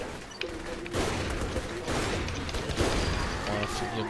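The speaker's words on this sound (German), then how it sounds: "ich geb dem weiter Headshots mit der Sniper" Sniper rifle fire in Saints Row The Third, with several sharp, booming shots spread across a dense game mix of other gunfire and effects.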